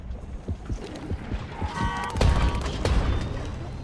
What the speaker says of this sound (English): this actually can shoot really fast